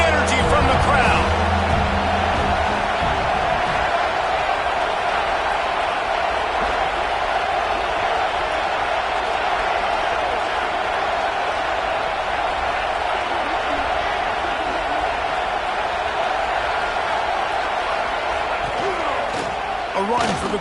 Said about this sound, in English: this defense feeling energy from the crowd